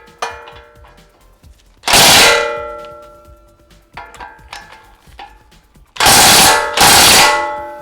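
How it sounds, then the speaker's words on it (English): Impact wrench on a Lexus GX470 CV axle nut in a garage, fired in three loud, broadband bursts of roughly a second each, separated by quieter clanks and handling noises. "Go ahead and shoot it with the impact after that."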